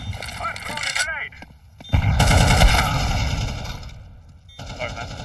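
A heavy blast and rolling gunfire in Counter-Strike 2, with a boom that swells and lingers for a few seconds before fading, and earlier scattered noises beneath voice chat.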